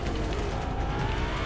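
A car in the video game Fortnite driven at full throttle with no braking, a continuous dense engine and road roar, fairly loud and unbroken for a brief moment.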